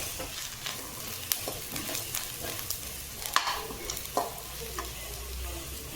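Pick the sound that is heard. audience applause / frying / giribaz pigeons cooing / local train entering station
frying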